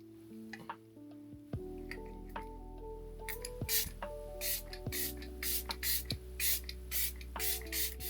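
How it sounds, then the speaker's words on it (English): A series of short, sharp spritzes from a makeup setting spray bottle, about eight quick pumps in an uneven rhythm, close by, after a few soft handling clicks. "Today though, we'll just use the one size Powder Melt glass setting spray."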